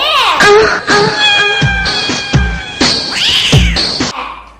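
A cat meows repeatedly, loud and close, with drawn-out wailing cries in an irregular series.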